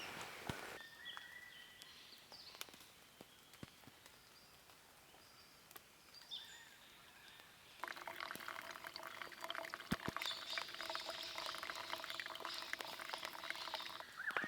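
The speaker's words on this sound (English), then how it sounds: "while the water boils" Steady rushing hiss of water at a rolling boil over an outdoor camp, growing louder partway through, with faint outdoor ambience and a few light clicks.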